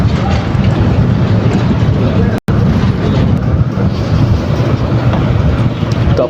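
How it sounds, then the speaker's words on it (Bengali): A Kolkata tram runs toward the Gariahat tram depot with a loud, steady rumble and rattle from inside the car, broken by one very short dropout, with voices partly audible under the noise. "ওই কয়েক সংখ্যক যাত্রীকে নিয়েই ট্রাম এগিয়ে চলল তার শেষ গন্তব্য স্টেশন গড়িয়াহাট ট্রাম ডিপোর দিকে।"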